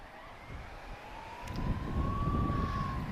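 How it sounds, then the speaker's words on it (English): A police siren wails faintly in the distance near Lisbon Airport, its tone rising slowly and steadily under a low rumble of wind or traffic. "I hear police cars."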